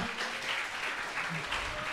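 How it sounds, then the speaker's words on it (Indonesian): A short burst of clapping from a small group at a school event in Jakarta, with a voice talking over it. "tepuk tangan dong"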